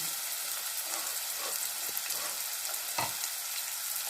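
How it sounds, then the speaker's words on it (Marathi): Three small chopped onions sauté in oil for a cluster bean (gavar) curry, giving an even, moderate sizzle with soft stirring scrapes now and then. "आता कांदा व्यवस्थित परतून घेऊया"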